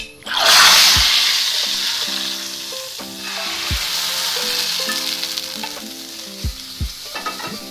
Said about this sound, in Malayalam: കടുക് നന്നായിട്ട് കൊട്ടാൻ തുടങ്ങിയിട്ടുണ്ട് ഈ കറിയിലേക്ക് ഒഴിച്ച് കൊടുക്കാം